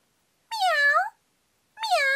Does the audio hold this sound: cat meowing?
yes